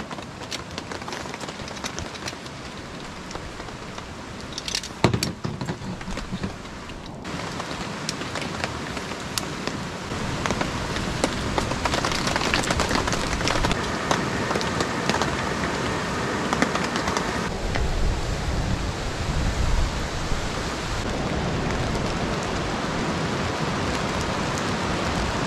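Steady cold November rain pattering on a taut camping tarp with gusts of wind swelling and easing, a continuous close wash of noise with a sharp knock partway through.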